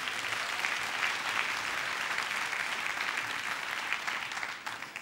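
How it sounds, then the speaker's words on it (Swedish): A theatre audience applauds dancers after a dance performance at a 2010 Piteå show semifinal: a steady, dense wash of clapping that holds at full strength throughout, then thins slightly near the end. "Ge våra fantastiska dansare en applåd alltså"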